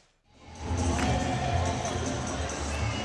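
A basketball arena crowd roars and cheers loudly and steadily for about three seconds, rising from a brief quiet start, as Lakers players react to a no-look pass to Slava Medvedenko in a 2001-02 NBA game against the Memphis Grizzlies.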